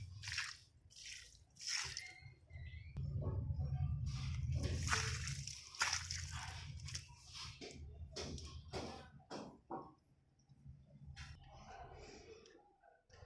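Water poured little by little into potted plants in a terrace garden gives faint, intermittent trickling and dripping, with quiet pauses between pours.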